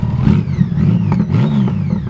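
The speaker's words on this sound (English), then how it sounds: "It does have aftermarket exhaust, which is a plus. Sounds really, really good." A 2006 Honda Goldwing GL1800 trike motorcycle engine with a deep, throaty aftermarket exhaust idles and blips its throttle, loud and close, with rough rumbling pulses throughout.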